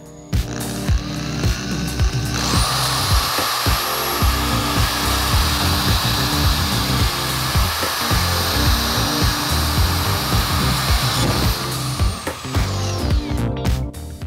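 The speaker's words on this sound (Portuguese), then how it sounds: "Fazer aqui a perfuração nessa parte aqui com o auxílio de uma furadeira." An electric drill bores holes through a ceiling light fixture being turned into a homemade softbox, a loud high whine with rapid grinding pulses, close and continuous for most of the clip.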